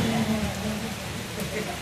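Heavy rain pours down during a sudden storm near Cotton University and Nehru Park, a steady, close hiss that fills the whole moment, with a voice speaking faintly underneath.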